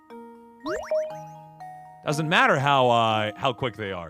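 Game chime plays at the start, a short rising run of bright tinkling tones with held notes, followed by someone speaking over it.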